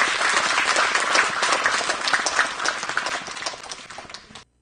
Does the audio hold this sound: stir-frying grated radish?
no